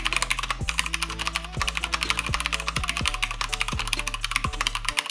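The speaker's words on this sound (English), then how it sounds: "So it's a mechanical keyboard, it has brown switches, and it's very nice," Rapid clacking keystrokes on a mechanical keyboard with brown switches, typed close up in a quick uneven rhythm, with periodic low thumps beneath the clicks and no talk.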